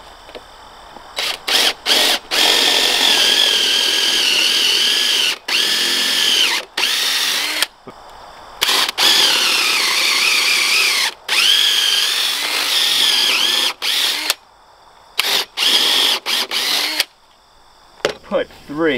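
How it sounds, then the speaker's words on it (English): A power drill whines in repeated bursts as it bores through a 6x6 wooden sill plate after a 5/8-inch hole, stopping and restarting several times with short pauses between runs. "we want to drill out all the way through the 6x6 after the 5/8 inch hole"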